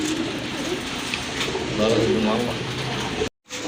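Pigeons coo softly amid a busy background murmur, with low throaty calls repeating through most of the clip before a brief drop to silence.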